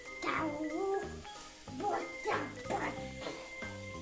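A voice imitates an angry barking dog, a pitbull-like growl and bark, in a toy animal-building game; a few short yapping bursts in a rhythmic run, close and fairly loud, with music playing underneath.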